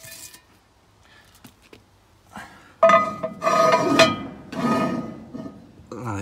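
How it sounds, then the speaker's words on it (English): Lid set onto an Overmont cast iron Dutch oven for an ox cheek stew cooked with briquettes, a sharp metallic clank and scraping rattle up close, preceded by faint handling noises. "but the lid's got to go on now."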